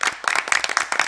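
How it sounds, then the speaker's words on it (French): Applause for Dr Ali Gilbert Ifono, a former minister and historian, in a hall: a brief burst of close, sharp claps from a small audience, uneven and lively. "Je vous demande de l'applaudir très très fort"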